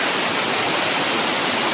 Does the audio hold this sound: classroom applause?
no